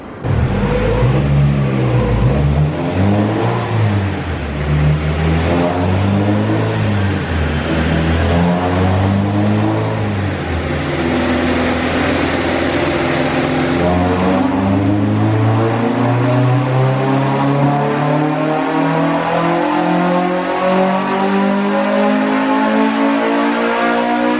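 A Honda Civic with a Type R engine swap revs loudly and steadily upward on a dyno for a long stretch, its pitch climbing continuously as it winds out near full throttle.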